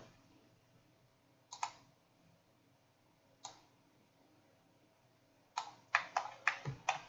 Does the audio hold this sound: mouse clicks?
yes